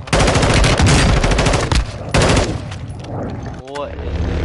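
Rapid automatic gunfire in Call of Duty Warzone comes in loud close bursts, with a sharp shot cutting through midway, then fades to a lower rumble with a voice at the end.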